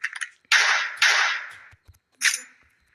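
Gunshots fired at a ghost in the horror video game Specimen Zero: three loud, sharp cracks with short noisy tails, the first two close together and the third after a pause, with a few faint clicks around them.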